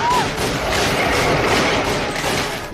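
Rapid gunfire from The Mummy, the Brendan Fraser film, comes as a dense, loud fusillade of overlapping shots and booms that runs without a break.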